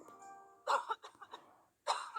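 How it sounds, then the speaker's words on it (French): A cartoonish character coughs in the casual home-renovation word game Wordington, several quiet, short coughs over a soft chiming game-music tone, in two clusters with a pause between. "elle tousse"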